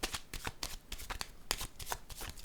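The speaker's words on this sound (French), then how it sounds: "Je vais piger une carte." Playing cards are shuffled and drawn from a deck during a tarot-style reading, a quick run of sharp papery riffles and snaps at close range with no talking.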